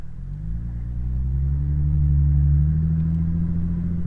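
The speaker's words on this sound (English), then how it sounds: "at the very top end of the RPM, it actually starts to backfire and stuff like this" A Lexus RC350 with an AFE Takeda intake revs up, the engine's deep droning rumble rising and holding steady at high RPM before easing slightly, heard close and alone.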